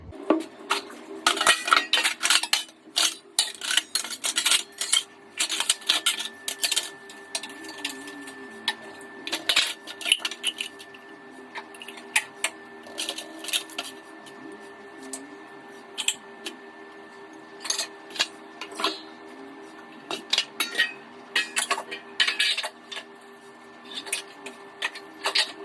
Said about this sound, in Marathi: आता भांडी लावायचे.